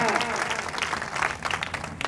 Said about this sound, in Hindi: अरे सर, जाते जाते एक जोरदार ताली बजा दीजिए भाई।